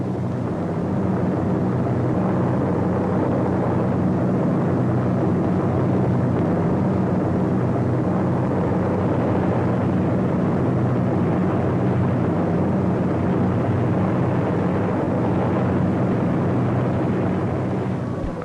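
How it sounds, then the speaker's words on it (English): Allied warplanes bombing the Normandy coast on D-Day, June 6, 1944, come through as a dense, continuous roar of engines and distant blasts, loud and unbroken for the full span, with no voices. "Standing offshore, the invasion craft wait as Allied planes blast the coast."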